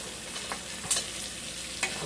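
T-bone steak frying in a pan, a steady soft sizzle with a few faint clicks of stirring or utensil contact, fairly quiet and without talk.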